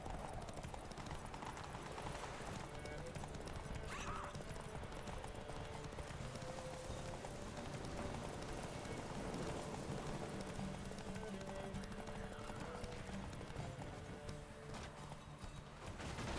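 Horse hooves clip-clop at a steady gallop in the Witcher 3 video game, loud and continuous throughout with dense game background sound underneath.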